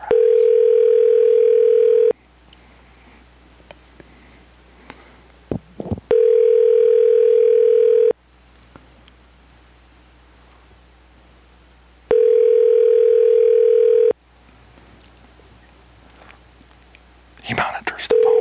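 A telephone call rings before going to voicemail: three long, steady ringback tones separated by pauses, with faint whispering and voices between them.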